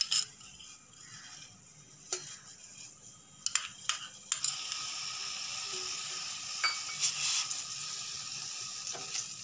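Ghee hisses in a hot pan for masala pasta, starting with a few sharp clicks and taps. It then swells into a continuous bright sizzle that carries through to the end, with no talking.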